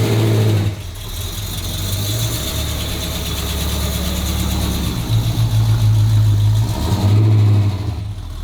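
A carburetted engine in a Ford Fairlane idles loud and close, with a steady low rumble that rises into slight revs and pulses before settling back.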